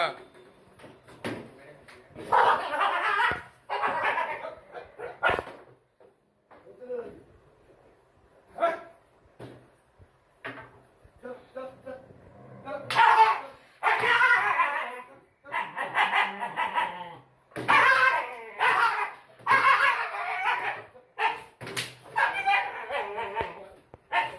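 Dogs that entered a house barking and yipping in bursts as people shout agitatedly and chase them out, with whimpers and short gaps between outbursts.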